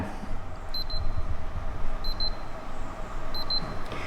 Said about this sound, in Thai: สังเกตนะครับตอนนี้เจ้าเทมโป เทรนเนอร์2ตัวเนี่ยมันดังไม่พร้อมกันนะครับ